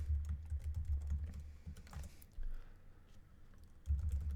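Computer keyboard typing in quick bursts of clicks, with a pause in the middle and short flurries of keystrokes resuming, close and clear with no voices.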